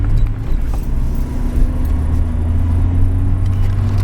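A 1999 Chevy S10 pickup is driven around the block, heard from inside as a steady, loud low engine and road rumble that holds constant throughout without speech.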